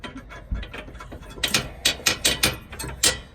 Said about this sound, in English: using a 22mm ratchet and socket, and just tighten that down